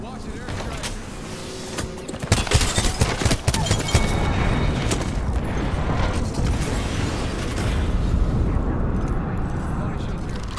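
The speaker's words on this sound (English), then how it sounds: "Watch it, airstrike!" Airstrike explosions in the Apex Legends video game sound as a burst of heavy booms and crackling blasts from about two seconds on, then settle into a loud rumbling, mechanical clatter, with a player talking over the action.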